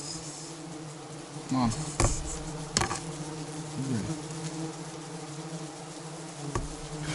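Flies buzzing around a rural cabin site, several close passes that swell and fade over a steady background drone, with a short spoken word from a man.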